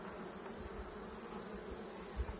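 Bees buzz continuously around a beekeeper out at an apiary in the countryside, a steady close insect drone with a few louder passes near the microphone.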